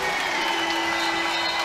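A large volleyball crowd of 4,392 at Gregory Gym in Austin roars and applauds on their feet, a dense wash of clapping and cheering filling the arena without letup.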